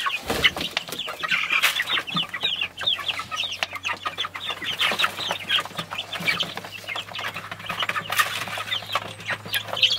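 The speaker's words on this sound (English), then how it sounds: "So these are the chickens." Many broiler chickens cluck and chatter continuously on a farm in Nkhata Bay, Malawi, a busy flock close by with a steady low hum running underneath.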